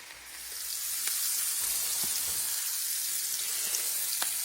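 Bacon browning in a pan, a steady broad sizzle and crackle that holds loud and even throughout, with a few sharp pops and spits rising above it.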